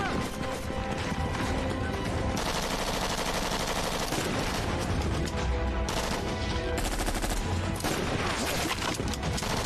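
Gunfire from the video game Top Gunner 2020, dense loud bursts of shots and rapid automatic fire over a continuous driving game soundtrack, filling the whole stretch without pause.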